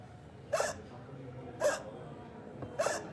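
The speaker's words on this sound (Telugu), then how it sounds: "వెక్కిలు వస్తే నాకు ఆపడం తెలుసు" Three distinct hiccups arrive at roughly one-second intervals, each a short sharp catch close to the listener, with quiet room tone between them.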